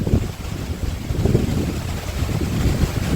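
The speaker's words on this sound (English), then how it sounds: "it is a bit windy when it does open up" Wind blusters across an open hillside track above the River Rhine, a steady, loud roar of wind buffeting the microphone for the whole stretch.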